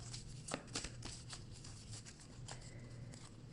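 Homemade oracle cards are shuffled by hand, giving soft, close riffling and patting with irregular light slaps, quiet and without talk.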